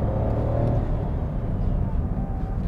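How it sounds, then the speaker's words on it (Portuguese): A 2017 Nissan Micra's 1.0-litre turbo three-cylinder engine idles in a steady, low, throbbing hum, heard close and continuous from inside the car. "É o típico, 3 cilindros da Renault, faz o mesmo barulhinho."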